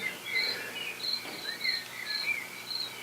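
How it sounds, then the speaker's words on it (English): Crickets chirp at night on a model railroad layout, a steady series of high, thin trills pulsing evenly over a faint background hiss. "So I'll show you a shot of it with the cricket sounds at night."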